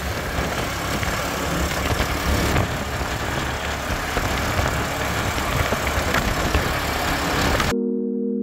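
A tuk-tuk's engine runs steadily in Sierra Leone, a constant close-up drone with rumbling low end lasting about eight seconds before cutting off.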